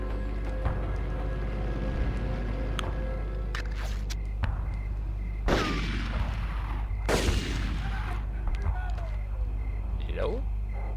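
Enemy gunfire in the Medal of Honor video game, a few sharp shots cracking over a steady low game hum, with brief bursts clustered midway and no talking.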